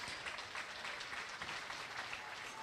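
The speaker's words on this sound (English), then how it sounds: "Let's give them all a big round of applause," Audience at a 4-H swine show clapping for youth exhibitors after a class of mini pigs, a fairly faint but steady patter of applause in a show barn.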